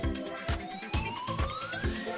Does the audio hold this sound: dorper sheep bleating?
no